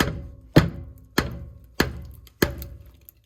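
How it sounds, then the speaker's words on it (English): Five sharp metal-on-metal hammer taps on a pickup truck's differential cover, evenly spaced about half a second apart, each ringing briefly before the next blow. "you just take your hammer"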